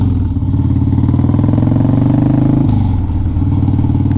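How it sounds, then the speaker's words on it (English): A 2002 Harley-Davidson Dyna Wide Glide motorcycle engine runs steadily at close range with a deep, loping low-end throb that holds loud and even throughout, with a brief shift in tone near the end and no talking. "This bike sounds good."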